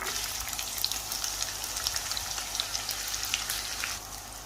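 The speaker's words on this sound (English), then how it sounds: "And just allow that to sizzle for 2-3 seconds." Onions sizzle steadily in hot oil, a constant crackling hiss with small pops throughout.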